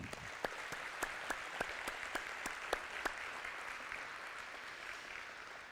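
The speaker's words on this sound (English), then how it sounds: "if you would give my school nutrition staff and leaders a round of applause" School district audience at a state-of-the-schools address applauds, a dense, even roar of clapping with a few sharper individual claps standing out, fading slightly toward the end.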